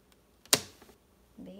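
One sharp, close snip of scissors cutting the edges of zipper tape on a fabric pouch, a single crisp click in a quiet room.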